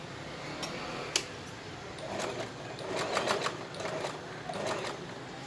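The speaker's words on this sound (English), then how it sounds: "Start sewing on all the lines." A sewing machine runs in steady bursts, stitching along the drawn lines of a reverse appliqué design on layered fabric, its needle whirring close and continuous with brief pauses between passes.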